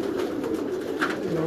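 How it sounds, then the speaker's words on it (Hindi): Pigeons of assorted breeds coo softly in a Karachi loft, low repeated throaty calls at moderate distance over faint background noise. "ये देखिए मैं कबूतर आपको जरा मुख्तलिफ किस्म के सारे दिखा दूं"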